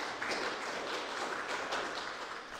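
An indoor audience at an art reading event in Madona, Latvia, applauds a speaker with thick, continuous clapping at moderate loudness that tapers slightly at the end.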